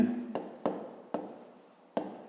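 A pen or pencil scratches out an inequality by hand, giving four sharp taps and strokes spaced unevenly over a faint background hum.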